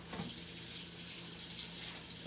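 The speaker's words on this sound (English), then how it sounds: "Rinsing George's food right now." Tap water runs steadily into a sink as food is rinsed under the faucet, a close, continuous hiss and splash with no talking.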